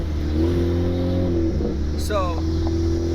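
A Honda Civic with a turbocharged R18 engine and an open downpipe drones loudly at steady revs, holding a constant buzzy engine note, with a short whooshing blip midway as it hits boost cut.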